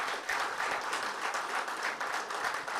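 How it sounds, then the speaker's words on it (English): Audience applause for a state head at a company event, steady dense clapping from a crowd sustained throughout at moderate loudness. "you got to give him a very big round of applause."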